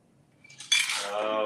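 A cocktail being poured from a shaker into a glass, starting with a few small clinks and then a steady, close liquid splash that runs to the end.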